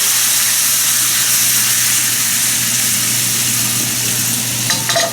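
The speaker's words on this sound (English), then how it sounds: "Okay, so I want to deglaze with some wine." A hot salmon pan is deglazed with wine, and a loud, dense sizzle and hiss hold steady throughout, ending in a few faint clinks.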